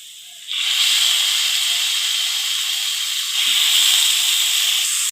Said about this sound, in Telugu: ఇప్పుడు శుభ్రంగా కడిగి పెట్టుకున్న చికెన్ వేస్తున్నాను.